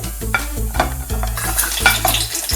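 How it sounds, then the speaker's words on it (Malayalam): Garlic, ginger and green chillies sauté in hot oil, a steady close sizzle with repeated scraping stirs of a spoon against the pan, no voices. "വെളുത്തുള്ളി ഇഞ്ചിയും പച്ചമുളകും ഇട്ട് വഴറ്റാം"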